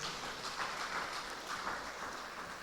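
An audience at a community gathering gives a round of applause, a dense, even wash of clapping from many hands that sounds somewhat distant and diffuse.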